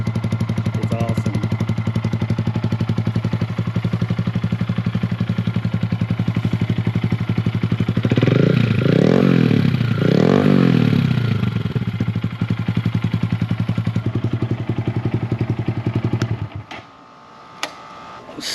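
A loud 2022 Honda Grom motorcycle with a Kemimoto exhaust, baffle removed, rumbles close by at idle, revs up twice in the middle, then settles and cuts off near the end.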